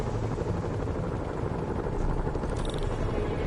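Helicopter rotors thrum steadily in a PS4 video game, a continuous loud whirring chop with a brief higher electronic tone near the end.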